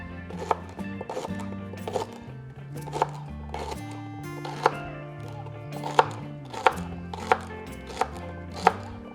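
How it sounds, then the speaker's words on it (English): A knife cuts celery on the bias against a cutting board, giving a series of sharp close chops at an irregular but steady pace over soft background music. "And then I have some celery here. Also gonna cut that on the bias."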